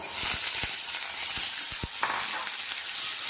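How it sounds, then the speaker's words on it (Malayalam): Sliced onions fry in hot oil for poori masala, giving a dense, even sizzle close by. A few soft knocks of a spoon against the pan sound through it, and no one speaks. "നമ്മൾ സവാള ഇട്ട് കൊടുക്കുക"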